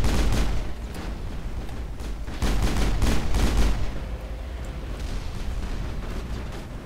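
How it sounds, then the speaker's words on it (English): Pistol fire in the Mass Effect video game, close shots in quick bursts mixed with other combat noise, loud and continuous across the scene. "Time to pull out the pistol."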